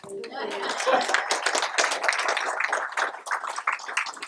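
A crowd claps steadily at a memorial diorama dedication ceremony, with dense, continuous hand clapping mixed with overlapping voices and chatter across the whole stretch.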